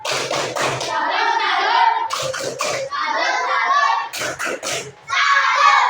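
Children in a religious-education class perform a rhythmic salute clap, with sharp patterned hand claps in quick groups mixed with chanted voices, loud and close.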